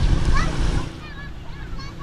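River of running water where children are bathing, with close splashing and churning water, loudest at first and then easing into a gentler rippling flow.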